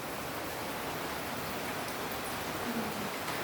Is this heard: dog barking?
no